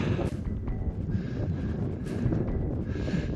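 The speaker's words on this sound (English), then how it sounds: "Wind's not so bad, especially coming from behind us now." Wind blows steadily across an open Scottish hillside near the summit of Driesh in Glen Doll on an overcast day, a constant low rumble buffeting the microphone with brief gusty swells and no talk.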